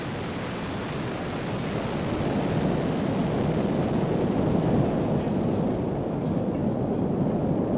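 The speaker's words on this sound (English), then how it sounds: "if I get higher up enough and engage the kind of horizontal engines" Jet engines roar in a flying video game with 3D audio, a loud, steady, broad rush of engine thrust and air that swells slightly midway.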